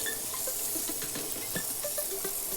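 Water runs steadily from a kitchen tap while cabbage is washed, a close, continuous hiss with small splashes and drips.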